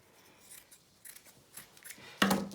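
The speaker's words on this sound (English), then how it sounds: "and cut, and fold it in half and cut." Scissors snip through fabric while a face mask with a nose wire is being made: a few quiet, spaced cuts followed by one louder, closer crunchy snip near the end, with no talking.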